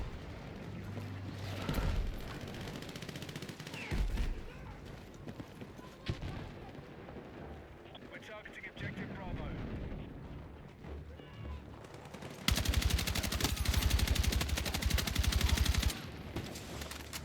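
Battlefield 6 Breakthrough match with sustained automatic gunfire, distant artillery rumble and vehicle noise, growing much louder and denser near the end while someone talks over it.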